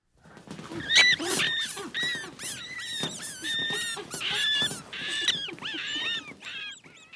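High, chirpy squeaks and squeals from river rats repeat in quick bursts, several animals calling over one another, fairly close and moderately loud.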